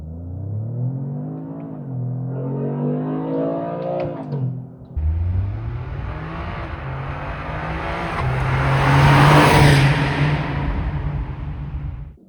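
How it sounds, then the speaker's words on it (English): A Toyota GR Corolla with an 8-speed automatic accelerates hard, its engine rising in pitch through each gear, then pausing briefly at the shift before pulling again. The roar builds loud and close with no talking. "there's a bit more of a delay between the gear changes, so the car really catches the next gear and kind of launches you back"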